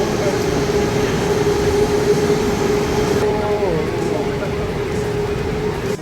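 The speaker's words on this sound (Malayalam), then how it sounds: "അപ്പുറം ഇപ്പുറമൊക്കെ ഓരോ മിനിറ്റ് കൂടുമ്പോൾ ട്രെയിൻ വരും." A Saint Petersburg metro train, on a system opened in 1955, rolls into the station with a loud, steady rumble and a sustained tonal whine, brakes squealing and pitch sliding down near the end while people talk faintly underneath.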